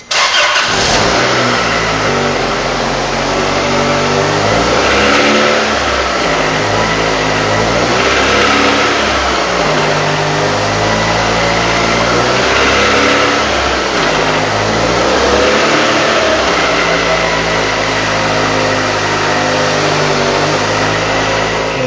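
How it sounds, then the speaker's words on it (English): A car engine runs steadily with a rough, puffing exhaust note and rhythmic ticking pulses throughout, close up and loud, with no voices. "Yes, you did hear an exhaust leak."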